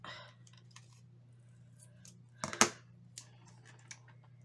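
Scissors snip paper for a handmade shaker card: a few quiet close clicks over a low hum, with one louder sharp double snip midway.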